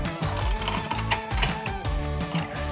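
A wrench ratchets quickly to tighten a bolt on a NordBench weight bench, a close, rapid run of metallic clicks in short repeated bursts, with no one talking.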